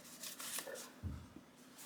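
Shuffled playing cards being spread out across a surface, a few soft papery swishes and light taps, quiet and close, with no talk.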